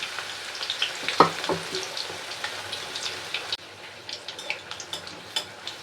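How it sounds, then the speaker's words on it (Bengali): Steady crackling sizzle of stuffed spiny gourds frying in hot oil two at a time, with scattered pops and a brief clink of a utensil partway through. "দুটো করে ভেজে নিচ্ছি"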